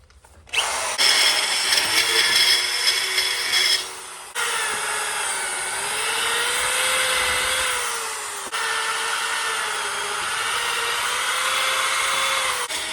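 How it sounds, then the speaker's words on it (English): A power drill bores holes through a steel plate for a hydraulic press build, whining close and loud with a brief pause partway through and a steady, slowly wavering pitch as the bit cuts. "looks like we got our holes drilled"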